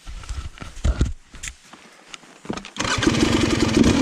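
A KTM 300 TPI two-stroke dirt bike with a low-compression head fires up on a trail after a few scuffs and footsteps, settling into a loud, steady close idle for the last second or so.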